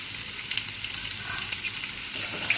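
Potatoes for potato biryani fry in hot oil with a bright, steady sizzle and crackle, stirred now and then, close up and with no talking.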